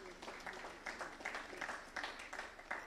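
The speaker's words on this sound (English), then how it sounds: "A round of applause, please." Conference audience applauding as speakers are called to the stage, a faint, distant stretch of steady clapping from a crowd with uneven swells throughout.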